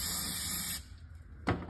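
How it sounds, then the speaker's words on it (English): Brake cleaner aerosol sprayed onto a trailer wheel hub during bearing replacement, a steady close hiss lasting nearly a second, then a short second burst after a pause. "So you're gonna wanna spray it out."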